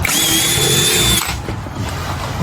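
A power drill whirs loudly and steadily for about a second, then cuts out, leaving a brief rustle of handling.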